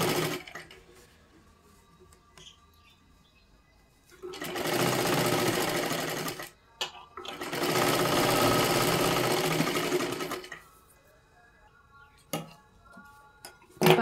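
A sewing machine stitches a seam on a size 37 three-piece princess-cut blouse in two sustained, loud runs of about two and a half seconds each, separated by a brief pause, with quiet handling clicks before and after.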